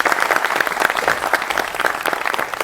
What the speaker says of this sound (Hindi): तालियों से स्वागत कीजिए भाई।